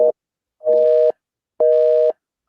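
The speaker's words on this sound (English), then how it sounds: "Oh, it's busy." A telephone busy signal plays two steady, loud tone bursts about half a second long with even gaps between them, clear and uninterrupted by any talk.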